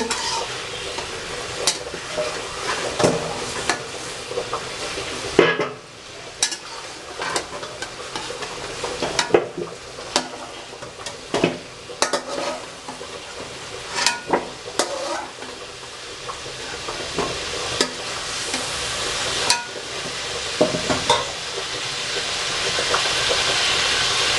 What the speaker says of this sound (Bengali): এখন আমরা নাড়াচাড়া করে তুলে নেব।